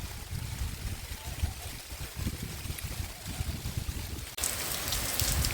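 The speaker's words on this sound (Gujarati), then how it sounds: "વરસાદ થઈ ગયો ચાલુ જબરજસ્ત જો નેવાન બધું પડે છે" Heavy rain pours steadily on village farmland near Dwarka, Gujarat, pattering and splashing close by as water runs off the eaves, then surges louder into a dense hiss near the end.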